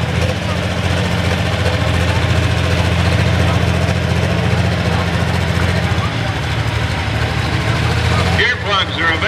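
A pulling tractor's heavy engine idles at a state fair truck and tractor pull with a deep, steady rumble, loud and close, then cuts off abruptly near the end.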